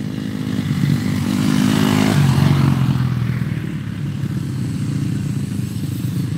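A 1997 Kawasaki KX250 two-stroke motocross bike revs and passes on a dirt track at a motocross school, loud and fairly close, its engine pitch rising then fading into a steady drone.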